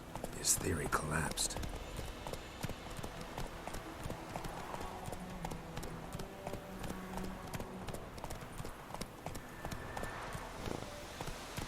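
Roach the horse from Witcher 3 trots with a repeating clip-clop of hooves beneath ongoing spoken dialogue, after a short burst of louder game sound at the start.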